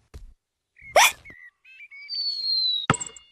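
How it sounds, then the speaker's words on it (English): Several short, sharp hiccup-like bursts from a cartoon child during a ball game, spaced apart with squeaky chirping tones between them, fairly close and clear with no talking over them. "George's hiccups are spoiling the game."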